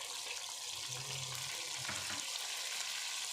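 Blended onion paste going into hot spiced oil for a mutton white handi, a soft, fairly quiet hiss with a brief low scrape of stirring partway through.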